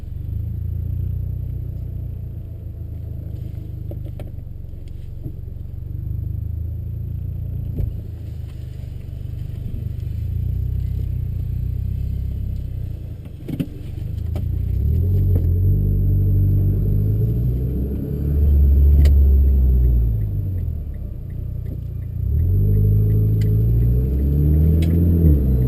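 Mitsubishi Evo MR with TC-SST dual-clutch transmission driving in normal automatic mode, a low engine hum that climbs with revs and drops back at several quick gear changes, heard from inside the car.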